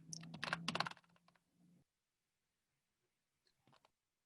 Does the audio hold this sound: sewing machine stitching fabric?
no